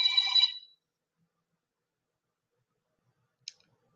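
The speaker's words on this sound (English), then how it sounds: "They'll ring my phone." A telephone gives one short electronic ring burst, close and clear, followed by silence and a single faint click.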